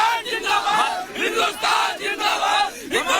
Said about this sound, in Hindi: स्लोगन यहाँ पर यानी नारेबाजी की जा रही है